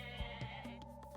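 Goats bleat in the Age of Mythology real-time strategy game, a few short in-game bleats spread over about a second, set against a steady layered game soundtrack with no talking.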